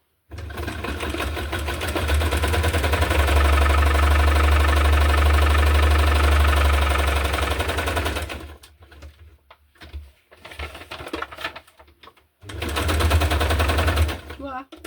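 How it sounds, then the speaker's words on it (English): A sewing machine stitches through a hardcover junk journal, a loud, fast, steady mechanical whir that runs for several seconds, pauses with scattered clicks and handling, then starts up again. "I can just sew around here to catch both of the glued on parts"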